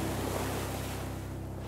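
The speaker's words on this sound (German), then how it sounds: "Da kommt die Welle" Ocean waves break on rocks along a sea coast in Germany, a steady, dense roar of surf and spray heard up close with no pauses.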